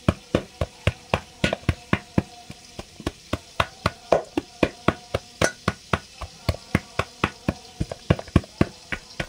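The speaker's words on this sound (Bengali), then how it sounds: "কি যেন হামানদিস্তা দিয়ে এরমভাবেই চিকেনটা ছাড়িয়ে নিচ্ছি" Boiled chicken pounded in a mortar and pestle to shred it, a rapid even train of dull thuds, around three per second, close and loud with no talking.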